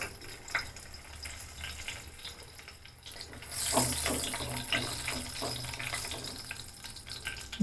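Bay leaves and green cardamom hit hot oil for a Bangladeshi pulao, starting as a soft hiss that swells into a louder, crackling sizzle partway through and stays steady.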